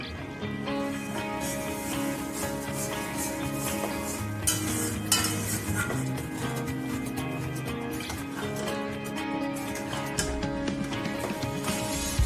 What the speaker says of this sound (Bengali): ফ্রাই হয়ে গেলে ঢেলে দেব সেই শাক। এটাকেও ভালো করে মিশিয়ে নেব।